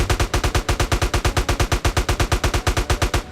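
Rapid automatic fire from a Smith & Wesson MP15 rifle in the San Andreas-based roleplay game True RP, a loud, evenly spaced burst of roughly twenty-five shots cutting off abruptly.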